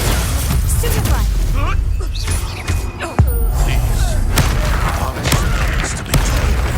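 Spell blasts from the Stupefy and Confringo spells in Hogwarts Legacy, a run of booming impacts and bursts across a busy battle, with a voice calling out over the clashes.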